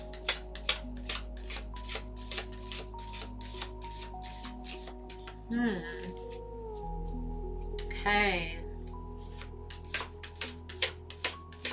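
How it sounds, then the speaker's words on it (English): Tarot cards are shuffled by hand in a steady run of crisp riffling bursts, close and clear, pausing briefly while a voice speaks a single word. "Last shuffle."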